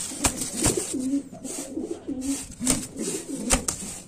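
Pigeon repeatedly cooing close by while guarding its chick, a series of low, throaty coos in a steady rhythm, punctuated by a few sharp clicks or knocks.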